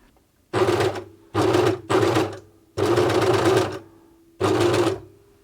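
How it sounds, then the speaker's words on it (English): A Janome MyLock serger stitches in five separate bursts, each a loud rapid mechanical chatter lasting roughly half a second to a second and a half, with short quiet pauses between them and nobody speaking. "when you sew with the machine, the excess fabric that's hanging over the side here gets trimmed"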